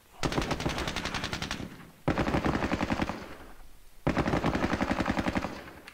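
Three long bursts of heavy machine gun fire from the Squad Battles: Soviet-Afghan War game, each rapid rattling stream lasting over a second with brief pauses between, loud and dense.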